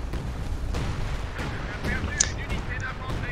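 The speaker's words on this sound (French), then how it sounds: "C'est l'artillerie d'assaut." Assault artillery bombardment in a D-Day tournament match of a war video game: continuous dense booming and crackling shellfire with repeated sharp impacts, loud and steady throughout, with commentators talking over it.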